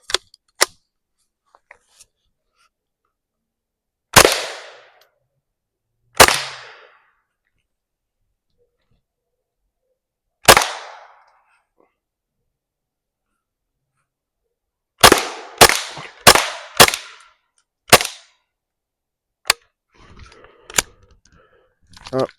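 A suppressed GSG Mauser .22lr rifle fires subsonic rounds at an outdoor range. Sharp, isolated cracks ring out with long gaps at first, then a fast string of five or six shots, and a few lighter clicks and metallic clinks follow.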